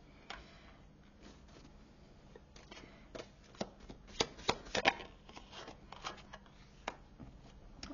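Tarot cards are shuffled and drawn in a quiet room. A run of soft riffling and flicking builds into a denser burst of card slaps midway, then eases off into scattered light flicks, all faint and close, with no talking.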